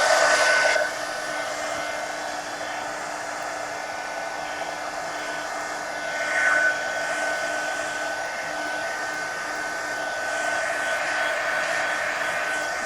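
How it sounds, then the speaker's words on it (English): A hair dryer blows steadily on a mixed media magazine journal page, a constant airy whir with a brief louder burst at the start and a slight swell midway, close and alone. "let me dry this one and I'll add some ink"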